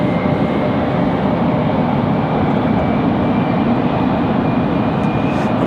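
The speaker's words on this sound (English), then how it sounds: "All right, a couple American Eagles pushing out." American Eagle regional airliners pushing back at Raleigh-Durham airport, a steady broad engine roar with a faint high whine, continuous and fairly loud throughout, no talk.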